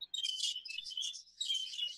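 Baby budgies chirp in an aviary's upstairs flights, a dense, high, twittering chatter of overlapping calls that runs almost without pause, with no voices.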